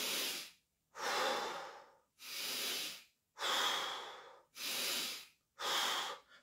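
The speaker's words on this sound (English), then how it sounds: "breath should always be a full inhale in and a full exhale out" A person doing qigong breath work takes six full, slow breaths in and out, each one a long, close, breathy rush of air separated by brief silent pauses, with no talking.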